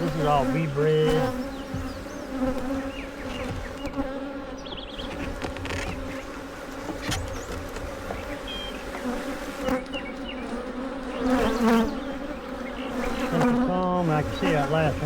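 Agitated honey bees buzz loudly and continuously around an open beehive during an inspection, a dense droning swarm with pitch swells as bees fly close, and occasional faint voice underneath.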